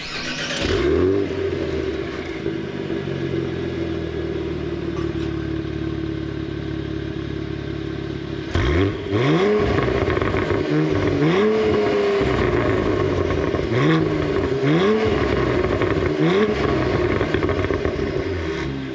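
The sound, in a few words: sports sedan exhaust starting and revving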